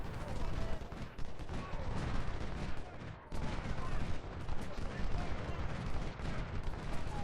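Massed musket volleys in a Civil War battle game, Ultimate General: Civil War, roll as dense, continuous crackling and booming fire, loud and layered over the whole stretch with a brief lull partway through.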